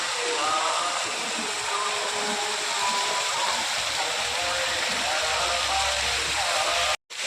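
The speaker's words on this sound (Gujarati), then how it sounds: "ગાય માતાના મોઢામાંથી પાણી નીકળે છે." Water gushes steadily from the mouth of a cow statue fountain at a Swaminarayan temple cow shrine in Navsari, Gujarat: a loud, close, continuous rushing splash that cuts out briefly near the end.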